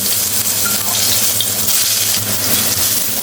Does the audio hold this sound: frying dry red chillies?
yes